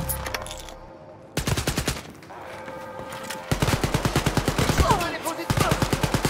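Rapid automatic gunfire from Wolfenstein: Youngblood rattles in several bursts of loud, evenly spaced shots, with short pauses between volleys and faint game sounds in the gaps.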